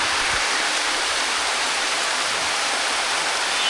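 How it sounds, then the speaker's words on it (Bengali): Heavy rain pours down in a dense, unbroken hiss, steady and loud with no voices. "অনেক জোরে বৃষ্টি হচ্ছে, অনেক জোরে"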